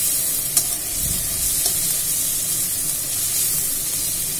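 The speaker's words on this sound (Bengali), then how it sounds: "এটাকে গোল্ডেন ব্রাউন এরকমভাবে ফ্রাই করবেন যাতে গোল্ডেন ব্রাউন হয়ে যায়" Potato pieces fry in hot oil in a pan, giving a loud, continuous close sizzle with a few faint stirring clinks and no speech.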